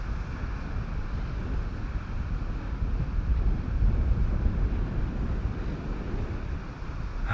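Steady wind blowing across a hillside slope where model gliders are flown, a continuous broadband rush that buffets the microphone and swells slightly in the middle, with no voices.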